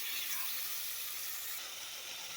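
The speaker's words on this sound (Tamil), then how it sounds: "தக்காளி நல்லா மசிகிற அளவுக்கு நல்லா வதக்கிக்கலாம்." Chopped tomatoes and chili powder frying in a pan for mushroom biryani give off a steady, even sizzling hiss, close and continuous with no voices over it.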